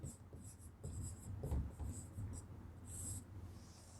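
Pen writing an answer on paper during a Sanskrit lesson: faint, soft scratchy strokes in short irregular bursts, close and quiet.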